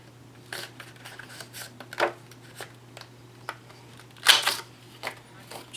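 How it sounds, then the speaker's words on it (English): Corner punch clipping the corners of card paper for a lacy Valentine tag card, a few sharp close clicks and snaps spaced irregularly, with faint handling rustle between them. "I'm going to punch the corners just for fun"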